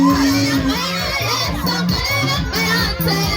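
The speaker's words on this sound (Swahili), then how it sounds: "wapi shangwe na vigelegele kwa Yesu" Crowd at the Kiru praise crusade cheering loudly with high, trilling ululations, a dense, continuous roar of many voices close by, swelling in repeated waves.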